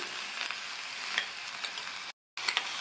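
Cauliflower pieces and fresh green peas sauté in hot oil with an even, hissing sizzle and soft stirring scrapes, cut by a brief moment of silence before the sizzle resumes.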